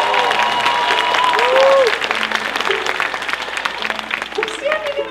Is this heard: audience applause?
yes